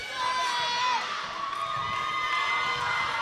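A high school crowd at a girls' volleyball match between De Anza and Hercules cheers and shouts with excited, sustained voices, close and lively.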